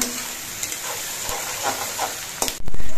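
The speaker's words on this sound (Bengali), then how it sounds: "এবার পেঁয়াজগুলো কিছুক্ষণ লালচে রং করে ভেজে নিতে হবে" Onions frying in a pan, cooked until reddish: a steady hiss and sizzle with small crackles, then a sudden louder burst of sizzling near the end.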